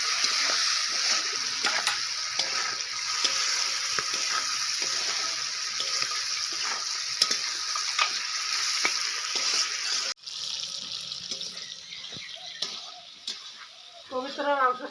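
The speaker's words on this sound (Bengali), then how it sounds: "পরে মাংসটা এখন ভাজি নেব।" Pigeon meat seasoned with turmeric, salt and chili powder frying in a pan, a steady close hiss and sizzle with scraping stir sounds, quieter after a pause near the end as the pan settles.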